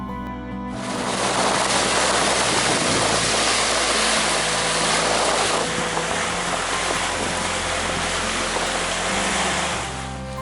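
Steady loud rushing of water and wind as a catamaran sails at sea at about 10 knots, a continuous broadband wash with no voices.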